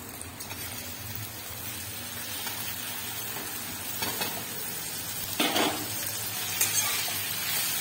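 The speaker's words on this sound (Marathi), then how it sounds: "तेलात परतून घ्यायची" Homemade goda masala spice mix frying in oil makes a soft steady sizzle close by, with scraping stirs and a couple of brief louder clatters of a utensil against the pan.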